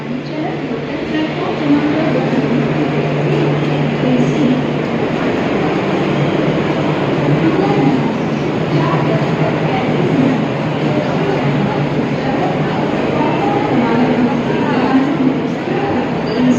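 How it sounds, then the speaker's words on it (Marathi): An AC suburban train rumbles steadily into Virar station in Mumbai, a broad continuous roar close by, with muffled voices and announcements mixed underneath. "ट्रेन आलेली आहे एसी ट्रेन"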